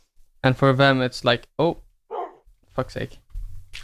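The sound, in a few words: dog barking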